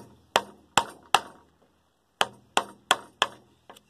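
A chisel strikes into a wooden roof truss while cutting a notch, giving sharp, close, woody knocks. Three hits come first, then a pause, then four more evenly spaced blows and a lighter tap.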